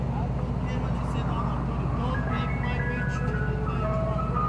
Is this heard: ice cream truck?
yes